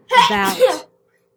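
A child sneezes once in a classroom setting, a single short, loud burst lasting under a second, followed by quiet.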